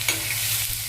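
Spices for kaju masala sauté in a hot pan, giving a steady soft sizzle with faint scraping of a stirring spoon, no voices.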